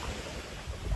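Surf rolls onto Tamarindo Beach on Costa Rica's Pacific coast, a loud, continuous wash of breaking waves mixed with gusty wind buffeting the microphone.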